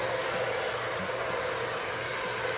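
A hair dryer set on low heat used while scrunching styling product into curls, giving a steady, even whirring hum that runs alone and unchanged throughout.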